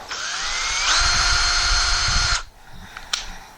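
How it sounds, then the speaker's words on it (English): An electric drill whines steadily for about two seconds, rising slightly in pitch as it bores a pilot hole for a screw while mounting a restroom mirror, then stops, followed by a few faint clicks and knocks. "I'm going to use a drill bit that's a little bit smaller than the screw"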